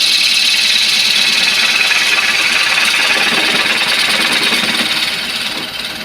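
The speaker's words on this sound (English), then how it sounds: "I'm using a bowl gouge." A bowl gouge, 5/8 inch, cuts into a wooden spoon blank spinning on a wood lathe, giving a loud, continuous harsh scraping hiss with fast chatter that eases off near the end.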